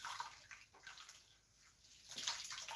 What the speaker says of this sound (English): Just dip it inside the water.